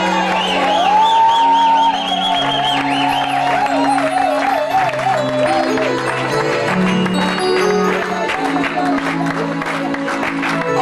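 Church convention congregation cheering and acclaiming during a worship service, loud sustained crowd noise with whoops and clapping mixed under singing and music throughout.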